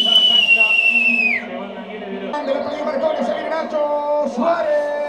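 Football stadium crowd at River vs Boca whistling at a player, with piercing high whistles over a dense, loud roar of voices and chatter that carries through the whole stretch.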